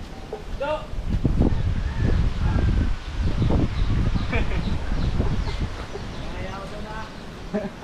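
Chickens clucking and squawking close by in the mountains, with voices talking over the birds and some wind noise.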